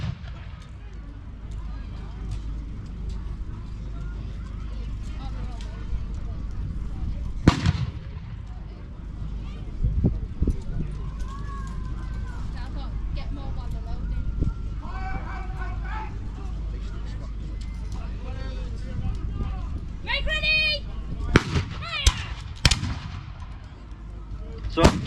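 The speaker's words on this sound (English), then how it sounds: "the person going forward would then fire their musket" Musket volleys crack out at a battle reenactment, sharp scattered shots with a few louder reports over a constant wind-blown rumble, while people talk and shout in the background.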